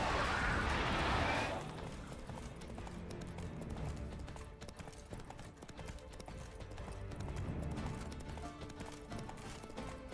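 Roach the horse's hooves clip-clop at a steady walking rhythm in the Witcher 3 video game, with a louder burst at the start before settling into a continuous moderate plod.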